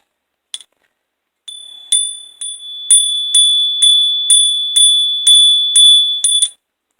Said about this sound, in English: We hit the bell.